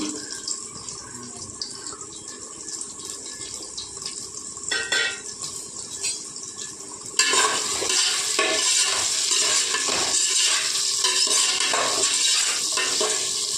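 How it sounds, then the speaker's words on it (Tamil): Sliced, smashed onions fry in a pan for chicken biryani, first a quieter sizzle with occasional stirring clatter, then a sudden louder, sustained frying hiss with scraping stirs continuing close by. "இந்த வெங்காயம் நல்லா வந்து வெந்து நல்லா ஒரு கோல்டன் ப்ரௌன் ஆகிற வரைக்கும் நல்லா நம்ம ஃப்ரை பண்ணலாம் வெங்காயத்தை"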